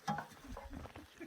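Stir fry of tuna, rice, stir fry veggies and eggs frying in a pan at a camp stop, giving a short, close burst of sizzling and stirring scrapes.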